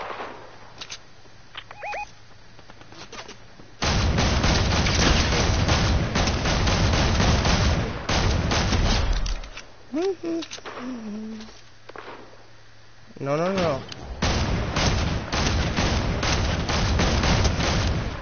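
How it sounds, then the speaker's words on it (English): Gunfire in a video game, with shots coming from two different directions: loud bursts and sharp reports, heavy rumbling stretches and some quieter gaps, with people talking and laughing over it. "I'm hearing gunshots from like two different directions."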